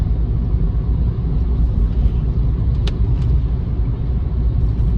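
A Honda Jazz drives along a snowy road through snow-covered trees, giving a steady low engine and tyre rumble heard from inside the car, with a couple of faint brief clicks midway.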